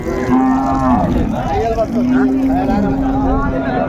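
A dairy cow with her calf at Raniganj cattle market moos loudly in two long drawn-out calls close by, while people talk and bargain around her.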